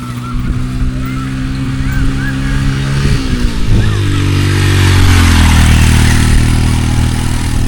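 Motorcycle engines run steadily along a village road, with rising and falling revs as bikes pass and accelerate, a loud continuous drone that holds for the whole stretch.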